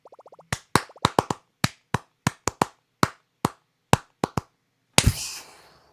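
A few quick light claps open the clip, then a string of single sharp hand claps at an uneven, deliberate pace, close and clear in a quiet room, ending in one louder burst.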